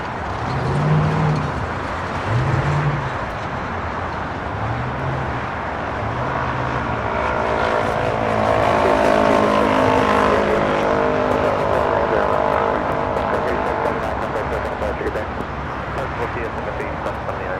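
A Korean Air Airbus A380 arrives on runway 24 right at LAX. A steady jet roar builds to a peak mid-pass with droning engine tones, then eases off. A voice speaks briefly at the start.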